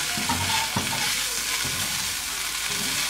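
A utensil stirs a lemon-juice mixture in a hot pan, giving repeated scraping strokes roughly every second over a constant bright sizzle, close and fairly loud, with no voices.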